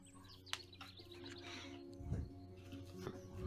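A barn owl call in the Wingspan digital board game, faint, heard as a few chirping bird cries over a low steady background hum.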